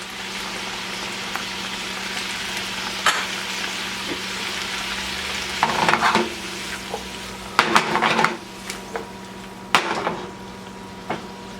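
Garlic and ginger sizzling and frying in a pan with blistered peppers, a steady crackle under several louder bursts of stirring and pan scraping, no talking.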